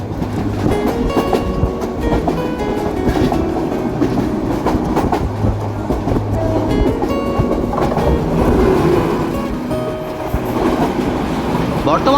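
Kishoreganj Express running through Tongi Junction station without stopping, rhythmic clickety-clack and steady rail rumble with a faint murmur of voices mixed in.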